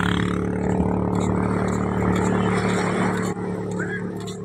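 A jet ski engine drones steadily at a beach resort by calm sea, a loud, continuous motor hum with a broad wash of wind and surf over it.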